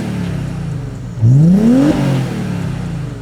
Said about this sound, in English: Let me give you a little rev so you know what I'm talking about.